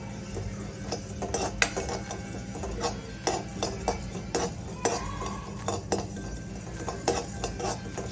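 Whole coriander seeds dry roasting in a pan for a Maharashtrian patwadi rassa, with a spoon scraping and clinking against the metal in irregular taps and stirs, close and moderately loud, no talking.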